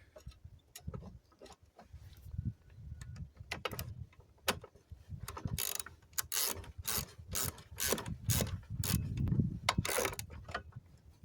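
Small bolt being snugged down on a Briggs lawn mower carburetor, with close, dense ratcheting clicks and metallic rubbing that come in irregular bursts, growing busier toward the end, with no talking.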